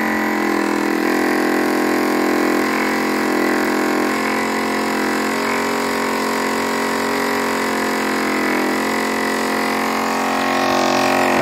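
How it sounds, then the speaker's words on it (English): A small electric pump and fan running on 5 volts hum steadily and loudly, a continuous mechanical whir with shifting tones and no talking over it. "Now I'll go to the red switch. The pump will come on."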